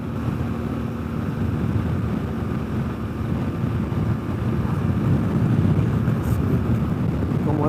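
Motorcycle riding along the Pacific coast, with heavy wind buffeting the microphone over a steady low engine rumble, loud and continuous throughout.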